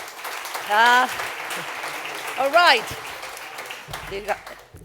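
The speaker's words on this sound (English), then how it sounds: "Round of applause for them." An audience applauds the jury at a startup competition final at South Summit 2016, with a moderate wash of clapping while voices talk and exclaim over it.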